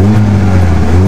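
Honda Civic EK9 Type R engine revving hard toward a high rpm, a loud, close, sustained mechanical roar with steady tone throughout.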